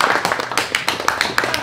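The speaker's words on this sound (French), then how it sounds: "On s'applaudit," A small group of brewery workers claps together at close range, with quick irregular hand claps mixed with a few voices and shouts.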